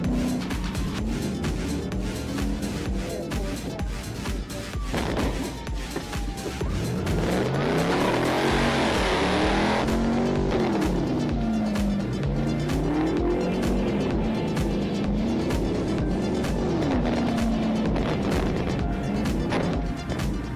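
A car speeds away from police in a chase, its engine roaring loudly and steadily throughout with a rising whine and tire squeal partway through, close and continuous with no speech.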